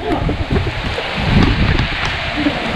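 Rain pours steadily in Krabi, Thailand, a dense continuous hiss with some wind rustle, close and fairly loud, with no talk over it.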